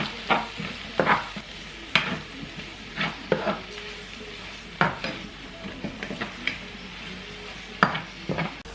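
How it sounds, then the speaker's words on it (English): Cabbage and corned beef with a little ketchup get stirred in a frying pan, bursts of utensil scraping and clinking over a soft steady sizzle, close and moderately quiet with no talking. "And now I'm gonna mix this up."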